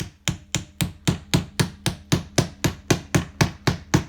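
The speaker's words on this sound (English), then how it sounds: "I'll pick up my hammer now" A hammer taps a nail in a steady, even rhythm, about sixteen sharp, close strikes in four seconds, with no voices.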